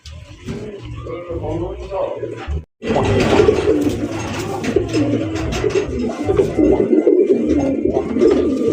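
A male Angel pigeon with red spangled body and white lace coos in low repeated throaty calls inside a pigeon farm, heard close alongside other birds while people talk.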